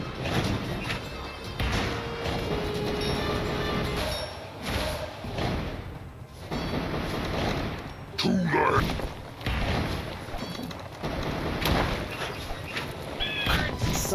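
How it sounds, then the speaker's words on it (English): Murglun the dragon unleashes her Volcanic Barrage ability in Kingdom Rush Vengeance: a dense barrage of repeated thuds and crashing impacts over game music, loud and sustained, with a speaking voice running over it. "her special ability, which is Volcanic Barrage"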